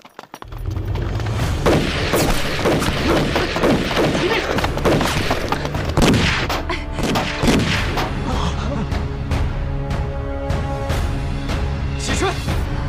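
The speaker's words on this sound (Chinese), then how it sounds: "鬼子听到枪声，他们会马上过来的" Rapid gunfire rings out during a guerrilla prison breakout, with a dense volley of loud, sharp shots and booming blasts that continues without pause throughout, while faint voices are partly buried beneath it.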